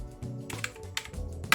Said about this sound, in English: I just finished typing the last bit of the script I had to write for the next main video